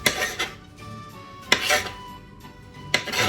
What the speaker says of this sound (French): on va le couper donc en morceaux